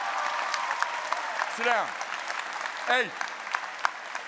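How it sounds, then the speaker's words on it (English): Audience applause fills a leadership summit keynote hall, steady dense clapping throughout, with a voice calling out over it twice in short bursts. "Round of applause."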